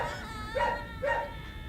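Dogs in the Despicable Me game give two short yipping barks about half a second apart, fairly close and clear, over a quiet background.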